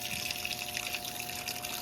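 Hot water rushes steadily into a washing machine through its fill hose, a continuous close hiss and gush with no pauses.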